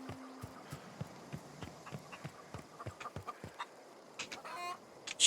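A chicken in The Outer Worlds video game clucks in short, quiet, irregular bursts, with soft footstep-like taps and a brief squawk toward the end, all fairly faint.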